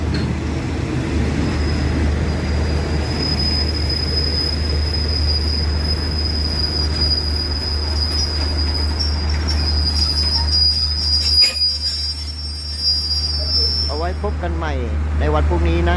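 A train rumbles steadily past at close range through Lopburi station, Thailand, with a sustained high-pitched wheel squeal over the heavy low drone and a brief voice near the end.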